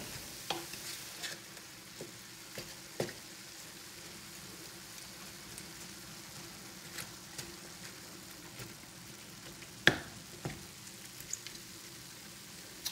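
Ground beef sizzles softly in a pan while a utensil chops, scrapes and taps it at irregular intervals, close and quiet, with no talking.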